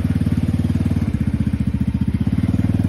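A Coolster Jeep Challenger 125cc kids' jeep engine runs close by in a rapid, even chug, its pulsing rhythm tightening slightly as it is put into first gear.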